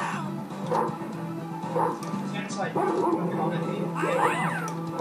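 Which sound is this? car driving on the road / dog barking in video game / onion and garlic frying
dog barking in video game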